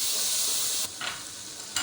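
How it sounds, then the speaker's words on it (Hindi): Aloo gobi with spices and a little added water sizzles loudly in a pan. The steady frying hiss cuts off briefly, then scraping stirring strokes and bursts of sizzle return up close. "2 मिनट भूनते हैं।"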